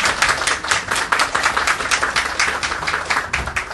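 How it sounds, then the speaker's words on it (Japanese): Applause in a radio studio as a guest interview on a local community radio show wraps up: a steady, close patter of several people's hand claps lasting throughout, dense and fairly loud with no talking over it. "拍手。"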